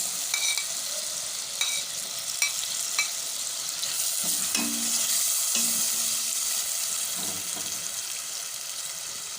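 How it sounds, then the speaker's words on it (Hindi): Tomatoes fry in a pan for lentil dal with bottle gourd, a steady sizzle under occasional spoon stirs and clinks against the pan, close and moderate, with no speech. "तकरीबन इसको 1 से 2 मिनट तक फ्राई करेंगे। और इसके अंदर ऐड करेंगे टमाटर।"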